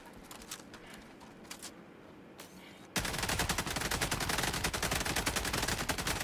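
Sentry turrets fire in Helldivers 2: scattered single shots at first, then a sudden loud, dense, continuous stream of rapid automatic gunfire that fills the rest of the clip.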